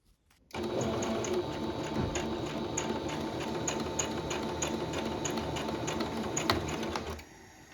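Sewing machine stitching a fabric casing for a homemade recoil shoulder pad, a steady rapid mechanical whir with fine ticking running continuously for about seven seconds, close and fairly loud, with no talk.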